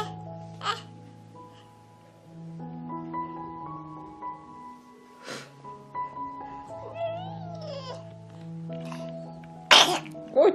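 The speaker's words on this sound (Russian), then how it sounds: "Ой, господи, как мы чихнули." A baby lets out a sharp, sudden sneeze close by near the end, following a stretch of quiet babbling and soft tonal background sounds.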